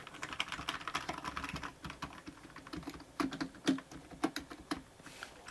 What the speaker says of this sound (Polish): posłuchajcie sobie jak ta klawiatura brzmi w akcji